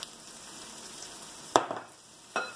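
Mushrooms and onions frying in oil in a frying pan give a steady soft sizzle, broken by two sharp scraping clatters of a utensil against the pan.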